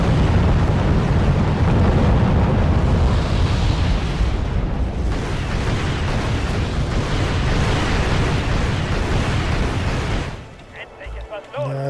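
Incoming shell explosions in the video game Wargame European Escalation form a dense, loud, continuous rumble of blasts and booms that drops away abruptly near the end.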